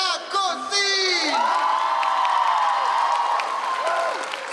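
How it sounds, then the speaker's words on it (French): Audience applause and cheering at a K-pop dance contest, a loud crowd clapping with whoops and high shouts over a sustained tonal hum, continuous and close throughout. "Sous d'applaudissements, s'il vous plaît"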